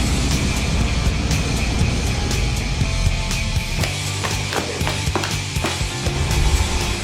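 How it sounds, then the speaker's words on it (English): Steady loud rushing blast of an air shower at the entrance to a Japanese sweets factory, with scattered sharp clicks and knocks over the continuous whoosh. "this is the air shower"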